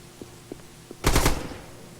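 Short, loud burst of automatic machine-gun fire in a competitive online shooter match, following a few faint isolated clicks, close and unaccompanied by talk.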